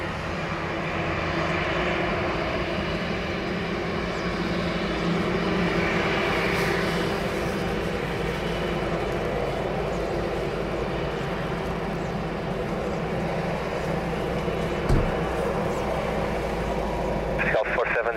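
An Airbus A330 airliner at Lisbon Airport produces a steady, loud engine roar that holds without a break, with faint radio chatter beneath it.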